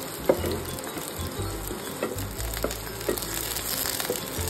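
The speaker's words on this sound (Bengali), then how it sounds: "এবার এতে দেব হচ্ছে পেঁয়াজ কুচি।" Chopped onion sizzles loudly in hot white oil in a kadai, a close, constant crackling fry with occasional scraping stirs and no talking.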